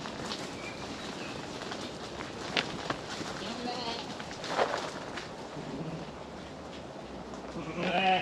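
A loose flock of sheep roaming through a village, with scattered bleats over a steady outdoor wash of noise and a few birds calling faintly in the background.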